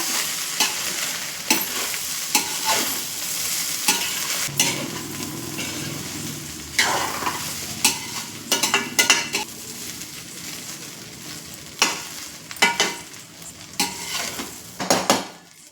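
Chicken fried rice is stirred and tossed in a hot frying pan, with a steady sizzle under repeated sharp scrapes and clanks of a utensil against the pan.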